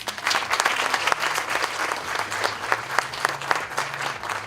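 A crowd gathered for the opening of Bomu Medical Centre in Kibera claps in sustained, dense applause, many hands at once, loud and continuous throughout.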